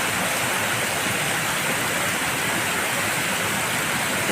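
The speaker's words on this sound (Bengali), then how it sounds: "দেখছেন বৃষ্টি কীভাবে বৃষ্টি হচ্ছে" Heavy rain pours down in a dense, unbroken roar, loud and close, with no pauses and no voices.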